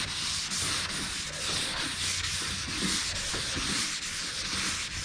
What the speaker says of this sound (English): It's always good to change your direction when you're sanding too.